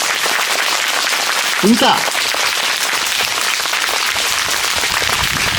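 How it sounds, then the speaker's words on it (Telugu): Students at a school meditation gathering applaud loudly in a steady, dense wash of clapping that lasts throughout, while a speaker's voice cuts through over the top. "గట్టిగా చప్పట్లు కొడదాం"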